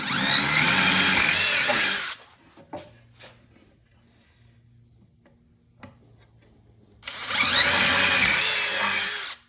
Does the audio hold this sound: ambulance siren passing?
no